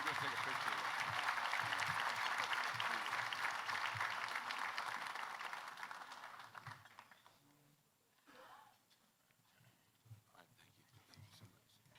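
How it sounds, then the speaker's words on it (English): Warm, full round of applause from a breakfast-banquet audience carries on steadily for several seconds, then fades away into a quieter room where a voice and light scattered noises remain. "Another round of applause for them, please."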